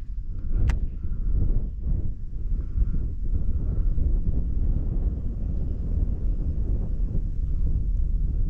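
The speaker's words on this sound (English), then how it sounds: "the wind pushing us along" Wind buffeting a microphone on a small barramundi fishing boat in North Queensland, a steady loud low rumble running throughout with gusting swells, no voices.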